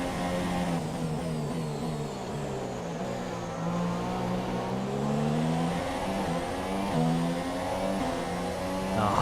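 A Formula 1 car engine from F1 2017, racing in Austria, whines steadily and close, its pitch rising and falling through gear changes with no talk over it.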